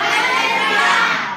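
A church congregation cheers and shouts praise to God together, a loud, dense crowd roar of many voices held steadily for a moment with no single voice standing out.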